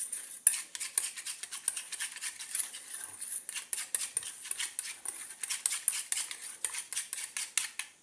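Homemade keratin hair mask mixture stirred in a bowl, a quick run of light clinking and scraping strokes in steady rhythm, close and fairly quiet with no voices.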